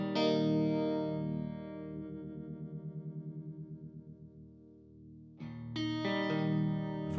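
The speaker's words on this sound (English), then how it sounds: "So I have the trem speed, so we can see the expression in the trem. We'll go and turn on the trem." Electric guitar through an RJM PBC6X pedal controller rig with the tremolo effect switched on: sustained distorted chords with a clear pulsing throb in the middle, then fresh strums ring out loud and alone.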